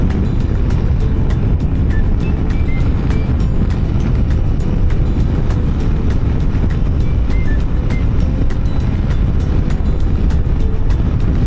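A motorcycle cruising at 120 km/h on an expressway produces a constant loud rush of wind buffeting over a low engine drone, unbroken and even throughout with no voices.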